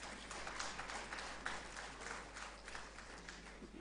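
Audience clapping for prize winners at a Statistics Day celebration, a faint, distant, continuous patter of many hands heard through a hall's ambience, steady throughout without standout voices.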